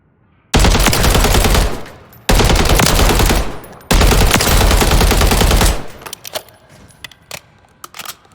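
Three long, loud bursts of rapid machine gun fire from Call of Duty Warzone at full volume without audio effects, each separated by a brief pause, followed by scattered clicks and clinks.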